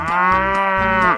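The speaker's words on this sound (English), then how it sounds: "Cow." A cartoon cow gives one long, loud, tonal moo close up, held steady for about a second before cutting off.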